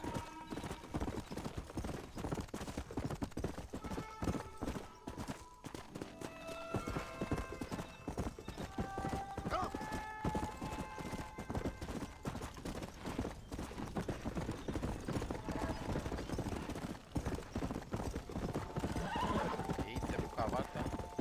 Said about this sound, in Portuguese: Eita, meu cavalo tá cansado.